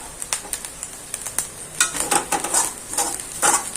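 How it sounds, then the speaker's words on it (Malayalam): Grated coconut lightly roasting in a pan for a Kerala fried-fish curry, as a metal spoon scrapes and clinks in quick, uneven strokes over a soft, close sizzle, with no talking. "ചെറുതായിട്ടൊന്ന് വറുത്ത് എടുത്താൽ മതി നാളികേരം"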